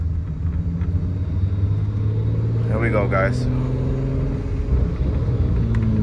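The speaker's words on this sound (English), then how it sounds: "So the car is finally moving on its own." A Volkswagen Mk1 with a VR6 engine swap rumbles steadily at low speed in first gear, a deep continuous drone up close while someone talks over it.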